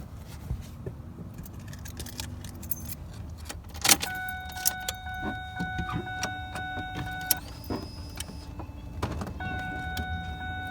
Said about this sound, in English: So I'm going to turn the key on the car, put the car in reverse